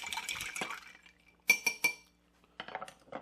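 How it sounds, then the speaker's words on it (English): Apple tequila cocktail stirred without ice, with bright metallic clinks of a spoon against glass in short bursts separated by pauses, close and clear. "I like stirring it first without ice, just to give it a good mix."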